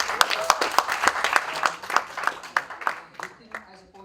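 Scattered audience clapping at a college festival event, a run of distinct sharp claps spaced irregularly and thinning out toward the end, with a voice talking underneath.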